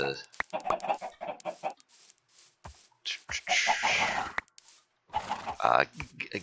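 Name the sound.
chickens clucking in video game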